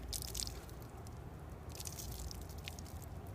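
Live crayfish caught from a river getting a quick rinse in water before boiling, giving soft drips, splashes and wet squishing close by, with brighter splashy bursts near the start and again toward the end, and no talking.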